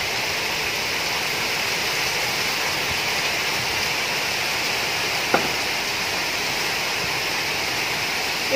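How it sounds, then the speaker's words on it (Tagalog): Rainwater runs in a steady, even rushing wash just after a rain in a rural province, continuous and fairly loud, with one faint brief tick partway through and no voices. "Kauulan lang, guys. Pero, ayan na, oh, yung tubig."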